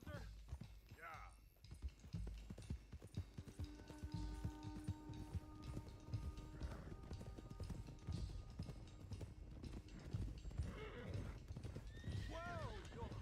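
Several horses in Red Dead Redemption 2 trotting with steady clip-clopping hooves, with repeated whinnies and neighs rising above. Voices talk over them now and then.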